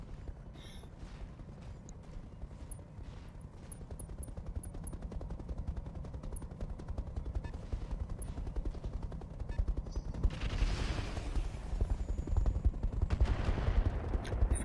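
Weapons fire in the mech combat game Roguetech, a BattleTech mod: dense, rapid bursts of automatic gunfire and mechanical clatter running throughout, with a louder roaring blast building near the end.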